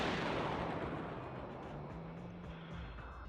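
A deep explosion rumble in the video game Zenless Zone Zero, loud at the start and then decaying into a long, noisy roar that fades slowly.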